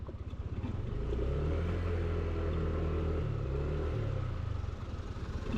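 Motorcycles ride along a rough road on the way from Kibungan to Baguio, a continuous engine rumble with rattling and clatter over the bumps, close and steady throughout.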